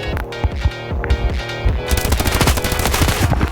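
Rapid automatic gunfire in the mobile shooter game Standoff 2, with a few scattered shots first, then a dense, fast stream of close, loud rounds.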